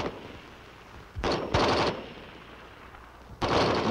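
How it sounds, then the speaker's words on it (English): An M14 rifle firing 7.62 millimeter rounds on full automatic, with three loud, sharp bursts of rapid shots separated by brief pauses. "By turning the selector to full automatic, fire is continuous as long as the trigger is held back and there are rounds in the magazine."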